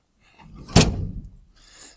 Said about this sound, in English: Oh, that door does close all the way.